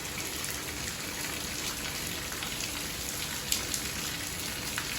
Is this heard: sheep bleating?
no